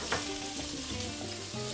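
Whole shrimp sizzle and fry in hot cooking oil in a pot, a steady crackling hiss that runs through the whole stretch with faint stirring, close and alone with no voices.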